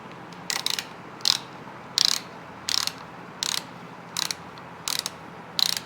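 Ratchet tightening a clutch-side part on a Yamaha CT-3 motorcycle: eight evenly spaced bursts of sharp metallic pawl clicks, close and distinct, over a quiet background with no talking.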